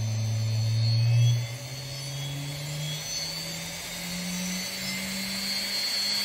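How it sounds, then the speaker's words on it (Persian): A steady mechanical whine with a tone that climbs in pitch as a small DC motor spins faster with voltage raised to 11 volts, loud and continuous with no talking. "حالا ولتاژ رو بالا میبرم روی 11 ولتی. به سرعت موتور دقت بفرمایید."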